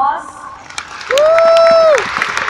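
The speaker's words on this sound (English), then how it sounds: "Can we give him a big round of applause?" Crowd at a ninth anniversary celebration bursts into clapping and cheering, a loud sustained whoop sliding over dense, close applause before easing off.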